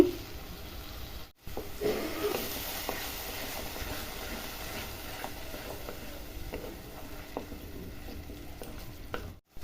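Tomato paste goes into spices frying in oil for Katla fish curry, making a continuous close sizzle and hiss with faint stirring ticks and brief dropouts.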